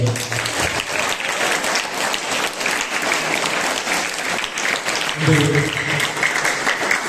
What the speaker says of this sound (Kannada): ಮತ್ತೊಮ್ಮೆ ಜೋರು ಚಪ್ಪಾಳೆ